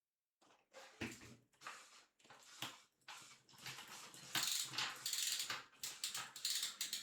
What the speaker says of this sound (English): we're gonna need to rotate the cranks once